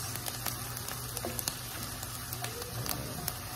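Chopped onion sizzling steadily in plenty of hot oil while being stirred for beef qeema, a dense, even crackle with faint spoon scrapes and no talking.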